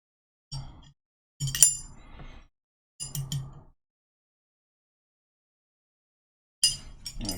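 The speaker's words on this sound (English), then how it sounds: "Take out the shoulder bolts that are holding the trigger plate in place." Metal shoulder bolts are removed from a gun trigger plate in four short bursts of light metallic clinking and scraping, close and quiet, separated by silence.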